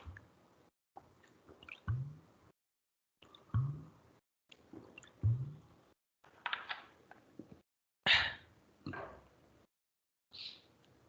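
Someone sips a little water, with several close, wet gulps and swallows spaced by short pauses and no talk in between.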